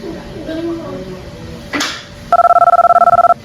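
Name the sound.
telephone ringing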